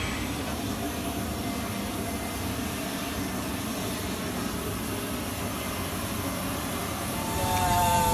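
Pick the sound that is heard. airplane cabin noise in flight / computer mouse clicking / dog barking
airplane cabin noise in flight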